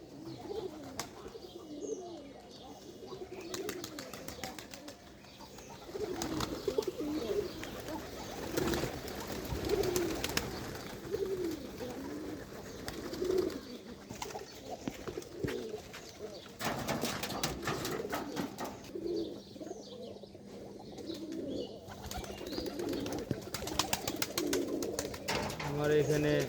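Domestic village pigeons of the Gola and Gobindo breeds cooing steadily and close by, with a few soft chirps and wing sounds, while a person talks over them at times.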